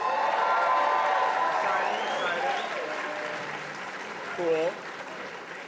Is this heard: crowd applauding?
yes